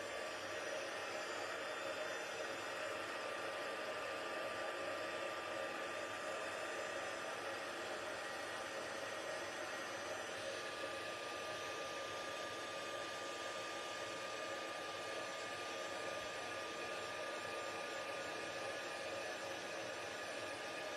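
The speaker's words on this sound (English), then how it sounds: "So I'm just going to heat emboss my sentiment." A heat embossing tool warming embossing powder on a card sentiment gives a steady, hair-dryer-like blowing hiss that runs unbroken at moderate level and is heard alone.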